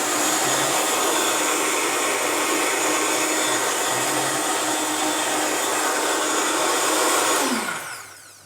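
A blender emulsifies olive oil into parsnip, celery root and green apple soup, a loud, steady, close motor whir that holds evenly for several seconds before winding down at the end, with no talking.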